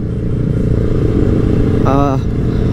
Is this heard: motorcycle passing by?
yes